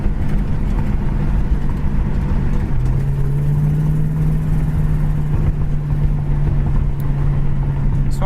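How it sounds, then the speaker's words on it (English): A 1973 AMC AMX engine idles steadily and fairly loud and close, a constant low rumble with a slight rise in pitch partway through. No one speaks over it. "As far as the engine goes, it runs excellent."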